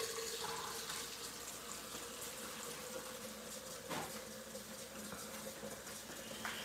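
Water runs steadily from a kitchen tap while strawberries and cream are being prepared, a continuous splashing hiss that lasts throughout with no talk.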